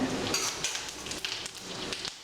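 Black pepper, cumin and chana dal sizzle and crackle steadily in hot oil in a pan, a dense continuous frying hiss for a broken wheat rava pongal tempering.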